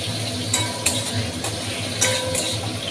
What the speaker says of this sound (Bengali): তো তার জন্য আমি এখানে পেঁয়াজ টমেটোটা দিয়ে দিলাম।